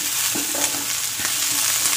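Curry leaves and green chillies sizzle with mutton for a ghee roast, a loud, dense, continuous hiss broken by faint scraping stirs, with no talking.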